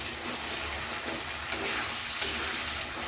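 A spice mixture splashed with a little water sizzles steadily while being sautéed (bhuna) in a pan for a Bengali dal and egg dish, a continuous hiss with a couple of faint clinks.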